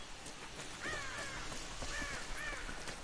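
Bird calls from Rise of the Tomb Raider, a few short rising crow-like caws rising over a steady bed of game ambience, with no talking.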